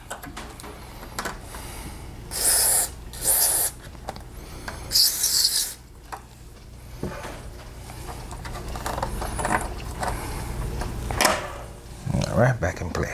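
Aerosol can sprayed during a Digi002 audio interface repair near the power harness, heard as a few short hissing bursts, close and fairly loud, separated by quieter handling and rubbing noises.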